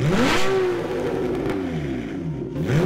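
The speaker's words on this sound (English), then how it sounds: "So that's the sound a Porsche makes." A Porsche engine revs loudly at the Cape Town Motor Show, rising and falling pitch sweeps over a couple of seconds, close and powerful with some mechanical clatter.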